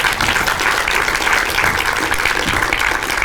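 Loud, dense applause fills a conference hall as a speaker is introduced for a programming talk, a continuous roar of many hands clapping together with no break.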